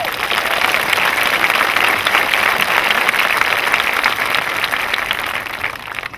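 Dense, steady applause from a graduation ceremony audience fills the whole stretch, loud and sustained before tapering slightly at the end.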